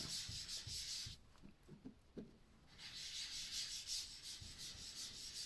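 Soft sponge rubbed lightly over a paper page to blend light blue ink into a card layer, quiet scratchy swishing strokes in irregular bursts with a brief lull in the middle.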